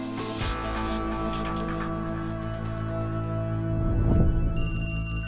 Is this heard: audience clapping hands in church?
no